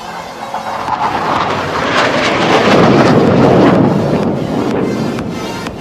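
Two jet aircraft at an air show crossing head-on at tree-top height, a loud roaring rush that swells to a peak midway and then slowly fades, with no voices over it.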